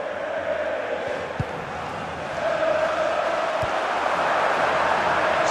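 A large stadium crowd in the EA Sports FC Mobile football game, Manchester United vs Barcelona, roars in a steady, continuous wash of cheering that swells louder partway through, with a couple of sharp thumps.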